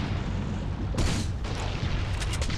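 A shotgun in Resistance 3 lobs longer-range concussion grenades, producing a loud broadband blast near the one-second mark, then a second burst and a few sharper cracks over a steady low rumble of game ambience.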